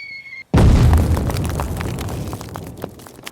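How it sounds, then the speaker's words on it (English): A mortar strike in a Bolt Action tabletop battle arrives as a sudden heavy blast after a brief silence. It is a loud, close boom with debris and rumble that slowly fade over the next few seconds. "the British mortar spotter calls in a strike, targeting the enemy machine gun crew"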